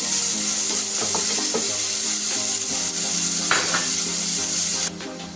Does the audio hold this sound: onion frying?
yes